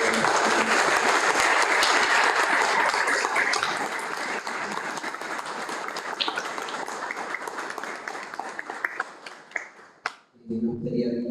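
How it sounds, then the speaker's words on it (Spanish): Loud, dense applause from a seminar or panel audience, sustained for about ten seconds and thinning toward the end before a brief voice cuts in. "Le damos un fuerte aplauso, por favor."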